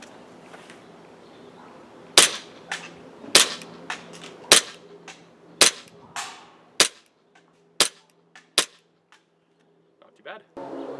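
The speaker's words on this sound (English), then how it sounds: "Let's go ahead and let's do some test shooting." Single sharp shots from an airsoft gas blowback pistol converted to run on CO2/HPA through a rear tank, fired outdoors, about nine cracks spaced unevenly with quiet gaps between them.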